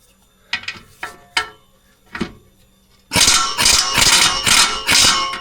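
A socket wrench with an 18 mm socket works on a bolt on a Hyundai Tucson: a few sharp isolated clicks, then a rapid, loud ratcheting run that continues to the end.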